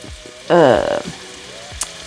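Carrots, celery and garlic hit a hot pot for chicken gnocchi soup, giving a sudden loud sizzle that fades after half a second amid quieter kitchen clatter.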